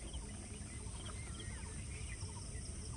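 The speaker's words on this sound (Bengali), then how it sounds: "চারিদিকে পাখি ডাকছে" Birds calling all around a village vegetable garden: faint scattered chirps and short whistled calls over a low, steady outdoor hum and insect buzz, with no talking.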